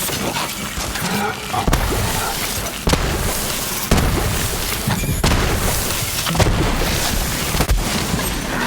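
A shot cask bursting apart in Borderlands 3, a loud blast and shattering debris amid a busy stretch of game noise with several sharp booming hits spread across the scene.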